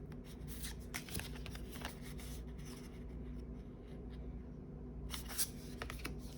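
Tarot cards from a matte-finish deck are shuffled by hand up close, a soft continuous papery riffling with brief louder flicks near the start and end, quiet and without speech.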